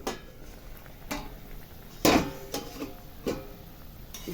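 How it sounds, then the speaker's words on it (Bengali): A lid lifted off a pan of simmering fish curry, with a sharp metallic clank near the middle and a few lighter knocks around it, close and alone. "এবার ঢাকনাটা খুলে দেব।"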